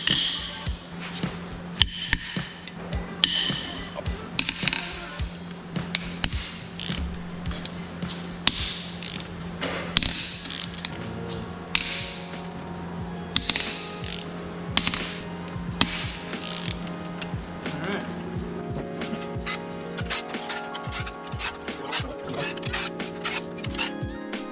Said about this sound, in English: We're gonna undo the head bolts